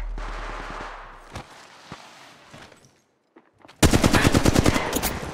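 Rapid automatic gunfire from Apex Legends Mobile erupts loud and close in a dense, continuous burst, preceded by a quieter stretch of scattered clicks and footstep-like taps.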